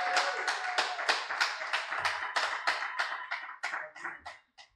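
Congregation at a Sunday church service clapping in a steady rhythm, about a dozen sharp claps of a crowd that tail off and fade near the end, with no talk over them.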